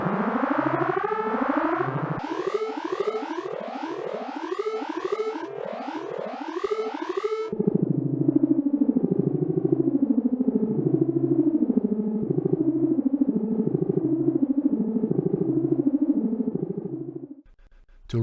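Procedurally generated, equation-based synthetic tones from the Spectral Audio Play software sweep in repeated rising chirps, then shift into a denser stream of warbling, stepped harmonic pitches, continuous and fairly loud before cutting off near the end.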